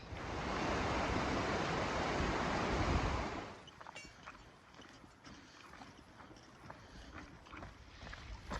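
Rushing water roars loudly for a few seconds at a small river crossing on a hiking trail, then drops away to a softer trickle with light splashing and faint background noise.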